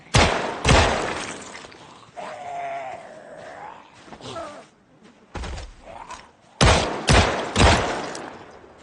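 Gunshots in the Project Zomboid video game: a few sharp, loud shots near the start, then a quicker cluster of three near the end, with quieter in-game sounds between the bursts.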